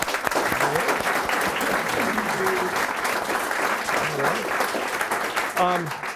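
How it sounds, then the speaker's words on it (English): Loud, sustained audience applause for Steve at a political meet and greet in New Hampshire, dense clapping throughout with voices and cheers woven in. "let's give Steve a round of applause for this"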